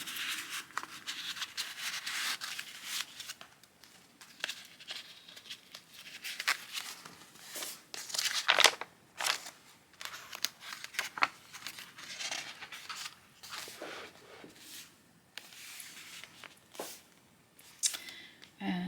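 Pages of an old journal, paper over 100 years old, rustle and crinkle as they are handled and turned, a close series of irregular dry swishes and soft taps.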